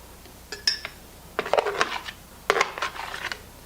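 A spoon scoops kefir grains into a 1-quart glass mason jar, producing a few bright metallic clinks and scraping taps against the glass, close and intermittent with short pauses between.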